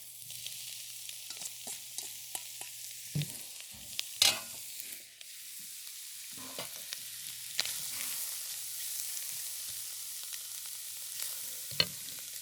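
Shrimp and scallops sizzle and fry in a hot oiled wok for seafood curry fried rice, a steady close hiss broken by intermittent scraping stirs and clatters of a spatula, with no talk.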